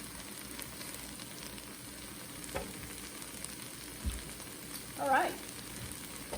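Onions and garlic sizzle quietly in a pan cooked without oil, a soft steady hiss with a few stirring scrapes, while a voice speaks briefly.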